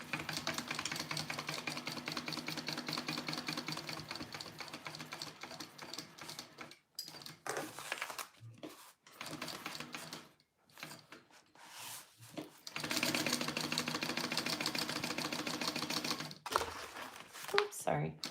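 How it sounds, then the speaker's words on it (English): A sewing machine bastes a pocket onto a fabric pouch with rapid, close mechanical ticking, running steadily at first and then in short bursts separated by pauses. "now I'm just gonna baste the rest of this pocket on here"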